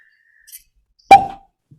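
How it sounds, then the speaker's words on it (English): A single sharp, loud pop as a cork is pulled from a bottle of Broken Arrow agave spirit, with a short ringing tail, a faint soft rustle before it and near silence around it. "And you know how good our damn cork pops are."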